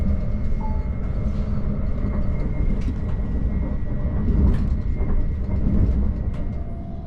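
A LeoExpress train rumbles steadily along the rails into Prague with a continuous low roar and faint rattling, heard from inside the carriage.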